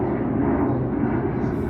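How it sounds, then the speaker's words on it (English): A plane passes overhead during outdoor bonsai work, a steady broad low rumble that holds at an even level from start to end with no other clear sound. "I'm sorry for the plane flying by."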